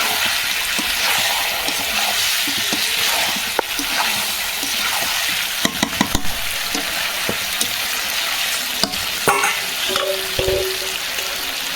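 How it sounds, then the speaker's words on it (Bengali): Meat and potatoes are sautéed together in a pan, a loud, dense sizzle broken by repeated spatula scrapes and clinks as the mixture is stirred, with no speech. "চলো কষাতে থাকি তখন আলুটাও কিছুটা আমি মাংসের সাথে কষিয়ে"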